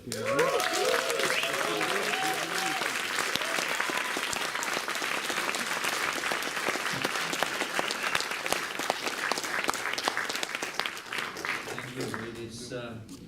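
An audience applauds to welcome trumpeter James Morrison from Sydney, Australia, steady dense clapping that holds loud for several seconds and then fades, with a voice speaking at the start and end.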